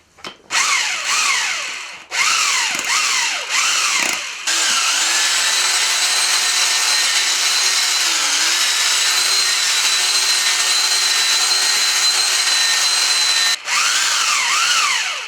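Artex plaster whisked in a bucket with a drill-mounted paddle mixer, a loud, continuous whirring drone broken by a few short stops and restarts near the start and end.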